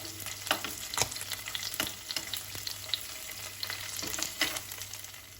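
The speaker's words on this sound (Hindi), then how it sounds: "पनीर को हर साइड से हमने फ्राई कर लेना है, गोल्डन कर लेना है।" Paneer cubes frying in oil in a pan, turned until golden on every side, give a steady close sizzle and crackle with sharp spits and pops scattered throughout, and no voices.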